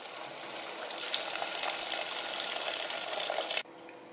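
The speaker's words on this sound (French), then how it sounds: "je vais venir couvrir le tout avec l'eau très chaude" Very hot water poured steadily over a simmering lamb couscous stew with vegetables, a loud continuous rushing splash mixed with sizzle that stops abruptly, leaving a quieter bubbling.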